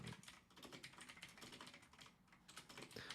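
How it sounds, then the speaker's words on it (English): Rapid keyboard typing, a quick irregular patter of clicking keys, close and fairly quiet, with no talking. "Sorry for the really loud typing"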